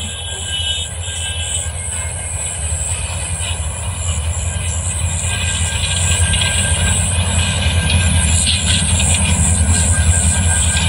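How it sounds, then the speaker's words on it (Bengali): A slow-moving train approaches past crowds, its heavy rumble and rattle building steadily louder, with high metallic wheel squeals and clatter layered on top. "ট্রেনটা কত ধীর গতিতে আইতাছে"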